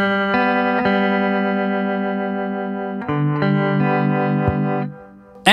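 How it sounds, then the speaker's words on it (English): A clean guitar played through a Fender Pano Verb amp with harmonic tremolo, sustained chords pulsing steadily, re-struck once partway and ringing clearly without talk. "Now you've got speed control and intensity control for the harmonic tremolo."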